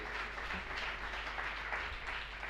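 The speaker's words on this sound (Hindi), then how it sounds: "कुछ लोग ताली बजाते" Audience applause during a Hindu or Jain religious discourse, a steady wash of many hands clapping that fills the whole stretch at moderate, even loudness with no talk over it.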